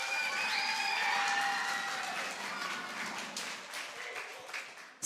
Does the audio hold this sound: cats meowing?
no